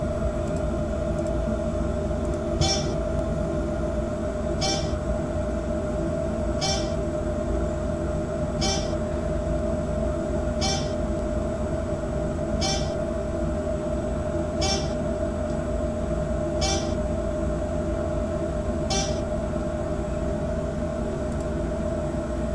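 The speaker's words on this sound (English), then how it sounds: "It does sound a whole lot better when you have the fan noise in the background." Steady elevator fan hum fills the background, a constant drone with a faint high tone, overlaid by regular clicks or beeps repeating roughly every two seconds, with no voices.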